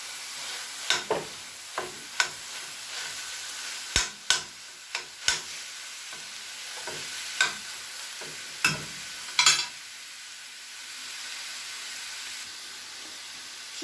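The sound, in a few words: minced meat frying in a pan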